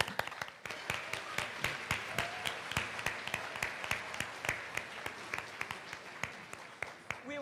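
A small crowd claps after a high school jazz band performance at a coronation event, the individual sharp claps distinct and uneven, with a few voices murmuring underneath.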